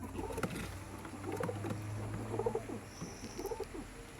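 Pigeons coo softly at their loft in the evening, repeated low rolling calls roughly once a second against a quiet outdoor background, fairly close.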